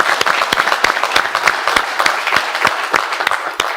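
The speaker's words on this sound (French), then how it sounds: "Un maximum d'applaudissements pour lui." An audience applauds the winner of a strongman competition with loud, close, irregular claps and strong individual hand strikes, continuing for a few seconds with no talk.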